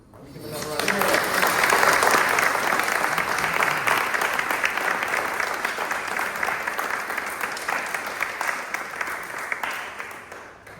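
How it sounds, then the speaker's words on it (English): An audience at a World Suicide Prevention Day performance breaks into sustained applause that swells within the first second and holds dense and even for about ten seconds, with faint voices mixed in. "Can we give another round of applause?"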